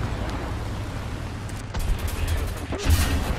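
Tank cannon fire and battlefield explosions from War Thunder on PS5, with a T-34 (1940) in the fight: a low continuous rumble broken by a few heavy booms, loudest near the end.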